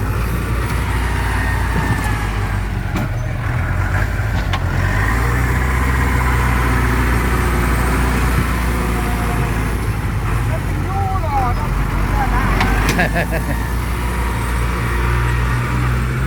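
An old tractor engine running steadily at a low, even rumble throughout, close and loud, with people talking over it.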